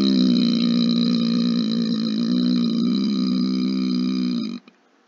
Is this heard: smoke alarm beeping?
no